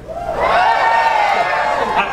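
A crowd at the Wiarton Willie groundhog event in snowy Wiarton cheers and whoops in one loud, sustained burst, close and lively, with mixed shouting voices.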